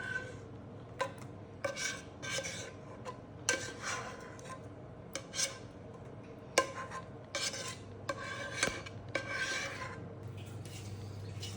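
Spoon or spatula scraping and spreading bolognese sauce over lasagne layers in a dish, a series of close, irregular wet rasping strokes with short pauses between them.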